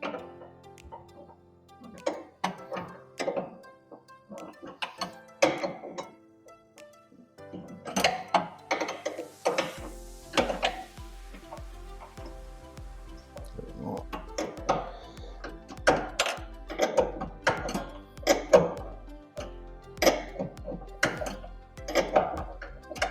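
A nut on a Muck Truck belt pulley is worked loose, heard as a series of sharp metallic ticks and clanks from a wrench, irregular and close, with soft handling knocks between bursts.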